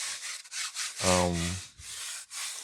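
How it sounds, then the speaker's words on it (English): Sandpaper rubbing over an XPS foam tombstone, a few close back-and-forth strokes with short pauses, fairly loud and steady with no talking. "Maybe I'll just do a little bit of sanding there."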